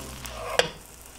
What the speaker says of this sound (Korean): 팬이 뜨거워지면은 팬에다 넣으세요